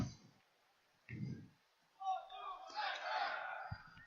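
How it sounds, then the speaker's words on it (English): Players on a team at an ultimate frisbee game raise a brief cheer and shouts after a few short murmurs, with voices rising into a noisy group yell that fades out. "Team's just getting a cheer here."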